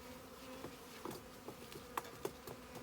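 A honeybee swarm being settled into a nucleus hive, a soft steady buzzing hum with individual bees droning close past now and then, fairly quiet and with no talk.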